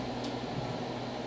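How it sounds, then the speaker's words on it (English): A household heater hums steadily in a garage workshop, a low continuous drone with faint airy noise on top, moderately quiet and even throughout with no talk. "The house heater's humming."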